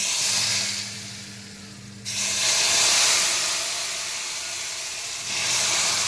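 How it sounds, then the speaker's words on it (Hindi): A loud steamy hiss as boiling water is poured into semolina in a pan, swelling suddenly and sizzling on, easing slightly, then rising again. "सूजी देखो, उबला हुआ पानी डालेंगे, धीरे धीरे डालेंगे"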